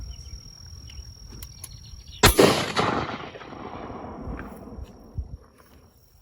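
A single loud .50 cal rifle shot is fired at training plates outdoors, a sharp crack followed by a long rolling echo, over a faint steady insect hum.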